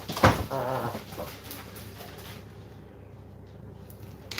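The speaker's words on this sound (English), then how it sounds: "we should let the dogs out" Dogs whimper and yip close by just after being let out indoors, a short burst of whining at the start that fades into a quiet room with faint rustling.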